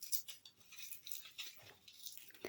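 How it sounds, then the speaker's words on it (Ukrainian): Crunchy corn sticks are crushed by hand into fine crumbs for a cookie topping, giving soft, close, crackly crunches and rustles in an irregular rhythm with no voices. "Для цього я взяла кукурудзяні палички і ось так їх, вони хрусткі, я їх просто подрібнюю дрібненько."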